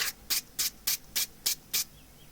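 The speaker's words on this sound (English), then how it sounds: "Just sand following the grain." Sandpaper is rubbed along the grain of a wood piece in a woodturning shop, seven evenly spaced, crisp scratchy strokes, each short and close, separated by brief quiet gaps.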